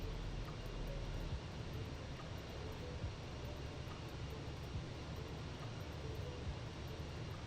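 A Ryanair airliner rolls out after landing at Palermo in Microsoft Flight Simulator 2024, its engine noise a steady, broad roar with a low rumble that holds evenly throughout, with no talk over it.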